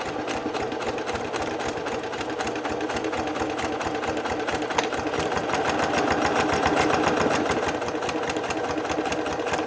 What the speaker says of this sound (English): I'm just going to stitch over it just like this, folded over.